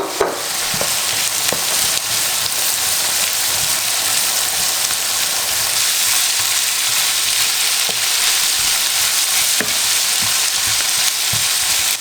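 Steady, dense sizzling of carrots frying in a hot pan for plov, with occasional scraping stirs, continuous and fairly loud with no voices.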